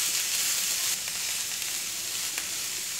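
Cabbage with grated coconut and turmeric stirred in a pan, a continuous dense sizzle with faint stirring scrapes, steady and close.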